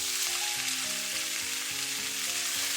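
Onion and black wood ear mushroom hit a hot wok with garlic slices and chilies, giving a loud, dense, continuous close-up sizzle over a soft melodic music bed.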